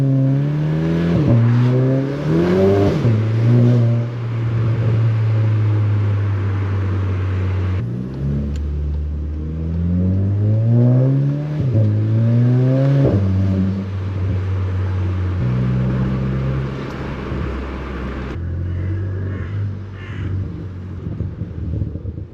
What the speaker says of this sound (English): Cannot beat a handbrake turn.